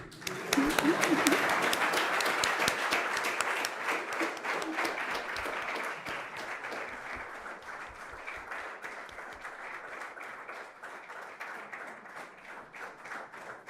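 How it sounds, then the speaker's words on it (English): A large audience applauding to welcome Kenya's President William Ruto at a university address, sustained dense clapping with scattered voices, loud at first and gradually easing but continuing throughout. "Let's keep clapping."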